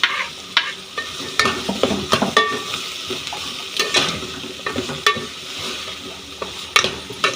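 Two large onions fry in a hot pan, with a steady sizzle broken by repeated scraping stirs and clinks of a spoon against the pan, close and fairly loud with no talking.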